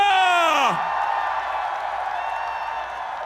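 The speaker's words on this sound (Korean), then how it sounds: "큰 박수와 함성 부탁드립니다" A Seoul rally crowd backing presidential candidate Lee Jae-myung lets out a loud whoop, then settles into a sustained roar of cheering and clapping from many people close by.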